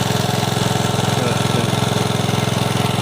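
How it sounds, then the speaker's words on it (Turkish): A water pump motor drones steadily close by, a loud, even, rapidly pulsing engine-like hum that continues throughout with no talking. "Şurada su motoru."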